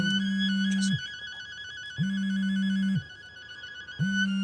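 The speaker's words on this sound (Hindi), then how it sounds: "मेरा फोन बज रहा है।" An electronic phone ringtone repeats in regular one-second bursts with pauses between, a bright melodic tone heard clearly and close.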